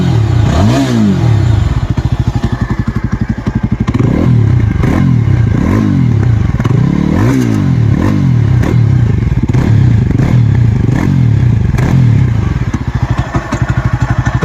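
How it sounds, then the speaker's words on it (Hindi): Yezdi Adventure motorcycle idling with its exhaust dB killer removed, heard up close as a loud, deep, steady thumping beat with rhythmic pulsing and no talk over it. "इवन एट आइडलिंग आरपीएम अभी बाइक आइडल कर रही है. This is how it sounds like"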